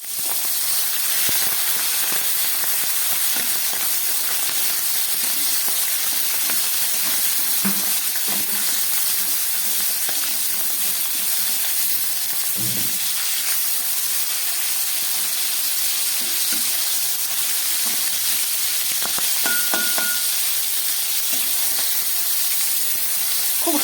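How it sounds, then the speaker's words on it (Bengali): Turmeric- and salt-coated shrimp fry in hot mustard oil, giving a steady, loud sizzling hiss throughout, with occasional soft stirring clinks and pops near the pan and no voices. "এই গরম তেলের মধ্যে নুন হলুদ মাখা চিংড়ি মাছগুলো আমি ভেজে নিই"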